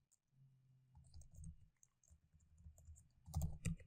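Code being typed on a computer keyboard, quiet close-up clicking keystrokes in short irregular bursts, ending with a couple of louder key taps.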